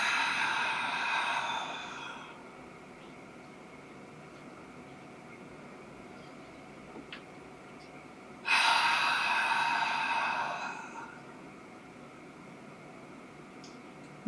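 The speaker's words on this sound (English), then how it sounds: "soft inhale, nice long exhale out." Two breaths during a diaphragmatic breathing exercise for posture, a soft airy breath at the start and another longer breathy rush later, close to the mic with quiet room tone between.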